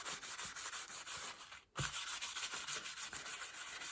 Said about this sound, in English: kitchen roll, rub it up.